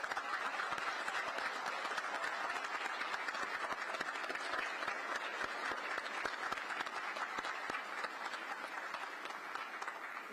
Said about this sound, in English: please join me in a round of applause for all the honorees for this evening